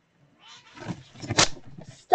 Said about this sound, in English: Cats are getting a bit rough.